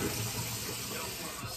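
Cold water running from a household tap into a sink, a steady broadband rush filling the whole moment at close range, with no voices over it.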